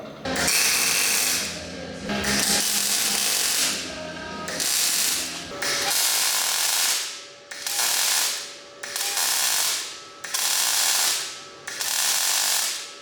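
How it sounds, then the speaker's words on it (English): A ratchet wrench tightens bolts on the body panels of a budget drift kart, with loud, fast clicking bursts in repeated strokes and short pauses between them, close up and alone. "We're going to bolt the body panels on for the final time and see what this thing looks like"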